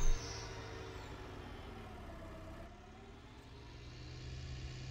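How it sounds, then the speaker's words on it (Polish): A tractor engine in the farming game Farming Simulator 19 drones steadily at a low, constant idle-like rumble throughout, fairly close and unbroken, with no voices. "Ten ciągnik też jest bardzo fajny."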